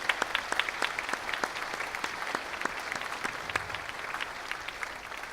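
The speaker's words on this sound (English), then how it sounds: "How about another round of applause for that?" Applause from a school concert audience after an eighth-grade and high school symphonic band performance, with crisp individual claps standing out over a steady wash of clapping that carries on evenly throughout.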